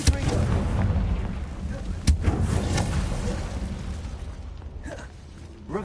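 Confringo blasting spell in Hogwarts Legacy, a fiery burst with a sharp bang near the middle amid rumbling combat noise, and a voice briefly calling out near the end.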